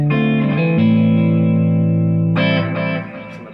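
Sustained electric guitar chords on the bridge pickup, played through effect pedals with a titanium pick, ring out thick with distortion and chorus-like shimmer, a new chord struck partway through and left to decay.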